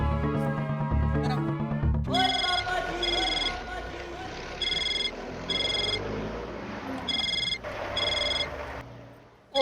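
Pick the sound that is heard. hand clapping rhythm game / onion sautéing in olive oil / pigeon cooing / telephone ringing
telephone ringing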